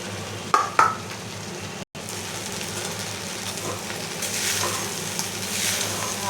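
Vegetables cooking in butter in a pan for tawa pulao, a soft steady sizzle with a couple of sharp clinks of a utensil early on and a brief dropout, the frying swelling slightly toward the end.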